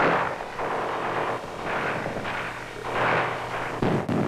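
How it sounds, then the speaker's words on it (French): Gunfire in city streets from an archival 1969 Vietnam War newsreel, a series of muffled bursts and booming reports rolling in waves over a distant rumble, loud, with a sharp crack near the end. "Des coups de feu ont retenti dans les rues,"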